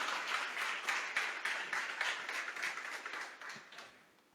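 Church congregation applauding during a sermon, a steady run of rhythmic, fairly loud clapping with no talk, gradually thinning toward the end.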